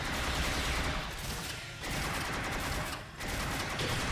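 Dense, continuous gunfire in Star Trek Online combat, loud rapid bursts with two short dips before resuming, no talk over it.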